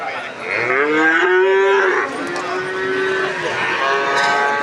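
Cattle at a livestock market in East Java give a long, loud, close moo that rises then slowly falls, with a second fainter lowing call trailing after and market background noise beneath.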